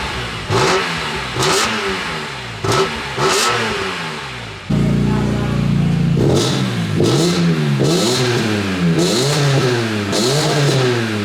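A BMW E46 M3 with a Rogue Engineering Diablo aftermarket exhaust revs hard again and again, loud and close. The engine pitch climbs and falls in repeated sharp blips, then holds a sustained higher rev.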